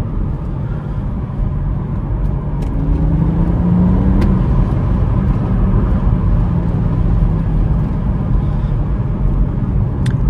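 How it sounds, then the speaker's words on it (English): A BMW M140i pulls hard in third gear, its engine a loud, continuous low rumble with road roar building steadily from inside the cabin, no talking over it. "Once you get into third gear, this car is rapid"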